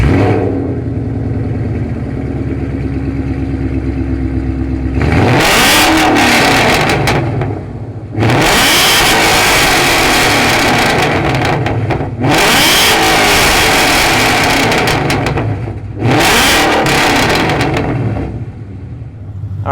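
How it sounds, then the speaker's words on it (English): A 2014 Ford Mustang GT with its Coyote V8 and Flowmaster exhaust idles with a deep rumble, then revs hard in three loud bursts that rise and fall back to idle, close by and with no talk. "we got Carl's 2014 Mustang GT idling here. You hear that rumble."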